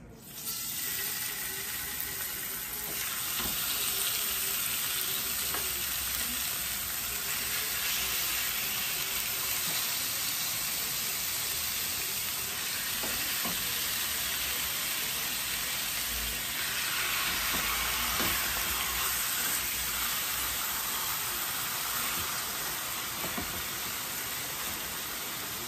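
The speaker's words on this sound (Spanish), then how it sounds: "Aquí tengo una cazuela ya lista con un poquito de aceite. Y le vamos a poner las pechugas." Chicken breasts fry in a little oil in a casserole pan over low heat, giving a steady, even sizzle throughout with occasional small crackles and no voices.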